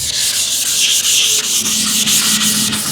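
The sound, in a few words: block sanding car body filler with 320 grit sandpaper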